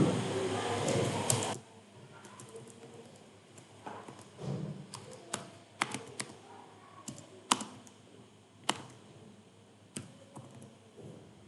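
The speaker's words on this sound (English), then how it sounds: "Select the existing contact name, Adam Sanchez, and then type Lucas Duda." Keystrokes on a computer keyboard while entering a customer name into a contact database, a busy patch of clicking at the start giving way to sparse, separate taps and clicks with a quiet room between them.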